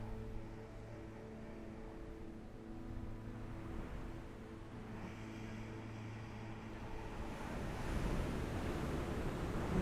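Ocean waves wash in a steady, soft surf hiss that swells louder and rougher toward the end, with a faint low hum running underneath.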